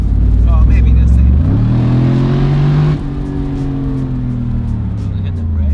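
A Mercedes SLR engine accelerating through the gears, a loud close growl climbing in pitch, dropping at a shift near the middle, then pulling up again steadily.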